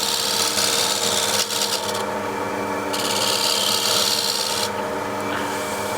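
A hand scraper shears a small lump off a wooden surface, making a steady, close, gritty rasping that runs continuously with slight changes in tone.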